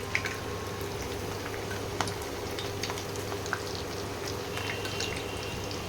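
Batter dropped into hot oil fries with a soft, even sizzle and faint crackles, plus a few light clicks, at moderate distance.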